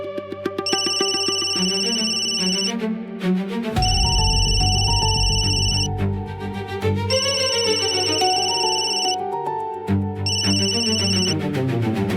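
A phone ringtone plays loudly in a household scene from an Indian TV drama, its bright electronic melody repeating in several phrases with brief gaps, with no talk over it.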